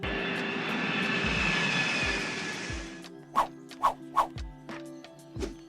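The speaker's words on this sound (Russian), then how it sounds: "А теперь пристегните ремни безопасности, мы взлетаем." Airplane taking off, a loud roaring engine rush for about three seconds that cuts off abruptly, followed by several sharp, separate thumping hits.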